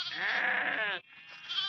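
A sheep bleats loudly in one long, wavering call while searching for its lamb, followed by a brief pause and the start of another fainter bleat close by.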